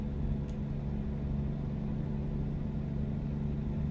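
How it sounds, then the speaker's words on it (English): A Volvo truck engine in American Truck Simulator drones at a steady low idle, a constant deep rumble with no revving, heard alone. "Yeah, I really like the sound this Volvo makes."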